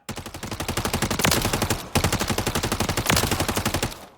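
An MG36 light machine gun in Call of Duty Modern Warfare III fires rapid sustained bursts, a loud steady stream of shots with a brief pause between two long strings.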